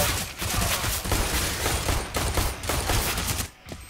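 Rapid automatic weapon fire in Counter-Strike: Global Offensive on the Dust II map, a dense, sustained spray of loud shots with only brief dips, no talk over it.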